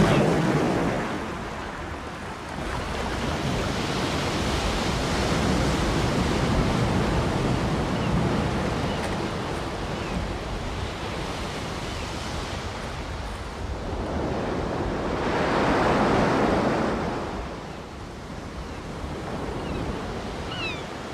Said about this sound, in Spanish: Los frecuentes derrumbamientos nos indican la violencia con la que el mar asalta los acantilados.